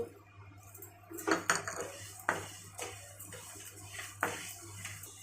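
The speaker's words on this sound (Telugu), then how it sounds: "ధనియాలను కూడా బాగా ఫ్రై చేయాలి" Coriander seeds dry-roasting in a pan for homemade pulihora powder, heard as a few sharp metallic clinks and scrapes of a utensil against the pan, fairly close, with quiet gaps between the strikes.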